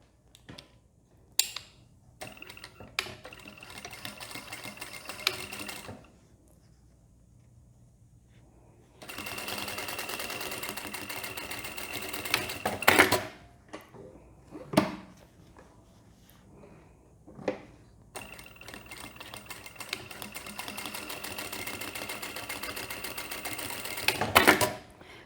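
A sewing machine stitches a seam along a fabric bag pocket in several separate runs of steady whirring, with short quiet pauses and faint handling clicks between the bursts.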